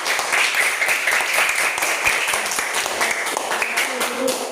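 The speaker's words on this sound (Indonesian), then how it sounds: "Nah, ya sekarang tepuk tangan." Students in a physical education class clapping their hands together, a dense steady burst of many hands sustained throughout, fairly loud and close, with some voices mixed in.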